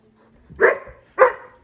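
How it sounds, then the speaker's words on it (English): A 4.5-month-old Irish Setter puppy barks twice, close and sharp, the two short yaps about half a second apart with quiet between them. "No! You don't bark!"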